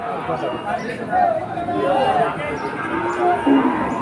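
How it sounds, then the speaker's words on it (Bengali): At Udaypur cattle market in Bagerhat, cattle low a few times, drawn out and moderately close, amid a steady babble of people talking across the crowded market. "এই যে অল্প স্বল্প গরু উদয়পুর গরুরহাট হলো বাগেরহাট জেলার ভিতরে"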